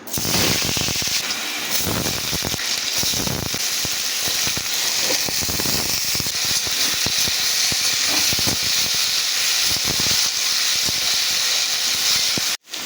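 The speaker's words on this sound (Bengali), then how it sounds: "তেলটা গরম হয়ে গেছে, এবার আমি আলুগুলো দিয়ে দিচ্ছি" Potatoes dropped into hot oil in a wok for aloo posto burst into a loud, dense hiss and spattering crackle that holds steady and close for many seconds, then stops abruptly, with no voices.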